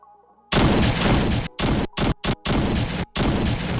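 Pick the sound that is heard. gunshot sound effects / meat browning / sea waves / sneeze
gunshot sound effects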